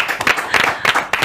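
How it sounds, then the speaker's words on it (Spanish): Brief burst of applause from a studio audience on a television show, several bursts of hand claps close together, loud and close. "Un aplauso que le ha acertado."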